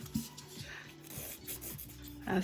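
Fingernails are filed with the 180 grit side of a nail file, giving soft, steady rubbing strokes in a quick back-and-forth rhythm, faint and close, with no talking.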